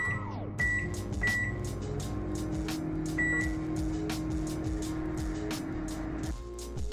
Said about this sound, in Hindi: तो मैं अब इसको माइक्रोवेव में रखने लगी हूँ 2 मिनट के लिए।